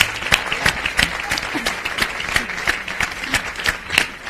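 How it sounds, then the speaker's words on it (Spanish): Steady audience applause welcoming a speaker to a debate on women, journalism and democratic memory, with distinct individual claps throughout, fairly close and sustained without talk. "aplauso."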